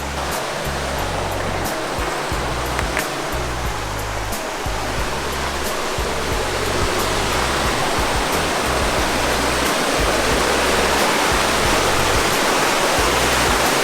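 Constant roaring rush of a waterfall, dense and close, with low rumbling underneath and no voices.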